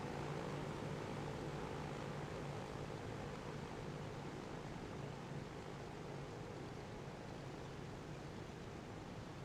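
Steady broadband propeller-plane engine roar from a plane taking off at an airport in the video game Transport Fever 2, with a train passing underneath, holding an even, continuous level throughout with no talking.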